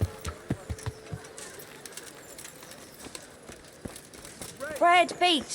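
In Kingdom Come: Deliverance, a horse's hooves clip-clop in a quick, even run at first, then thin out under ambient game sound, with loud bird-like calls rising near the end.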